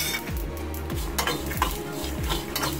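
White sesame seeds crackle and pop in a hot kadai on a gas stove, a steady close sizzle with light scraping and clinks of a spoon against the pan, and no talking.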